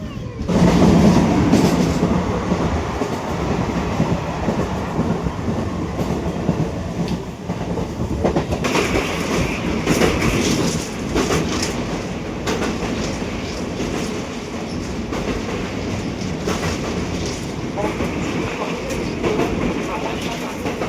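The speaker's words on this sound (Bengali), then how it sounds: "এক নম্বর প্ল্যাটফর্ম থেকে আমাদের মেদিনীপুর হাওড়া লোকাল ছেড়ে দিয়েছে।" Medinipur–Howrah local train running on the tracks after leaving Howrah station, a loud, continuous rumble with rhythmic clickety-clack from the wheels, heard from on board, with faint voices in the carriage.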